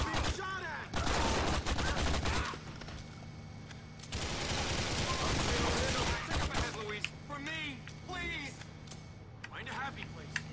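Gunfire in GTA 4 The Ballad of Gay Tony comes in long, loud automatic bursts with gaps between them, mixed with game sounds and someone talking.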